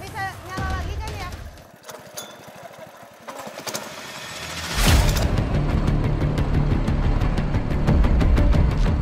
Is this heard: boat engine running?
yes